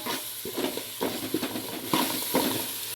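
Ginger garlic paste is stirred into fried onions in a pan for veg biryani, with a steady sizzle of frying and repeated scrapes and knocks of a spoon against the pan, close and without talk.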